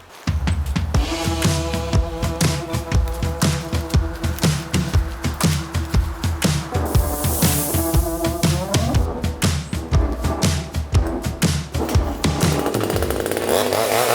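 A StartPro mini chainsaw runs loud and close, its engine revving and bogging rhythmically as it cuts through a dead tree about 35-40 cm thick, with no talking.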